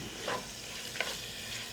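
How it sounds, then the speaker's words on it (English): Quiet, steady sizzle of food frying in a pan, with a couple of soft scraping stirs and no talk over it. "So we're waiting for that nice sizzle."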